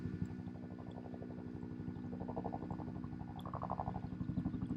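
A helicopter passes in the background, its steady rapid rotor thump pulsing low and continuous, moderately loud with a slight swell as it moves overhead.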